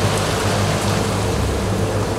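Rain falls on open sea water in the Tuamotus, a dense, even hiss of countless drops striking the surface, close and loud, with no voices.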